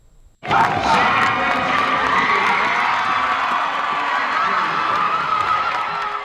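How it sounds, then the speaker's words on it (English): A university cheer team screaming and cheering on winning its first NAIA national championship, an abrupt burst of loud, high-pitched crowd shouting that holds steady for several seconds. "And that was the reaction when the cheer team found out they won their first NAIA National Championship"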